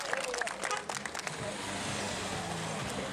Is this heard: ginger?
no